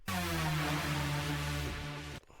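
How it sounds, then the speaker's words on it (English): A dry Hoover lead synth patch for hard techno, with no effects: a thick, buzzing sustained chord holding steady for about two seconds, then cutting off abruptly, heard alone. "Is a classical song of hard techno. It's a Hoover."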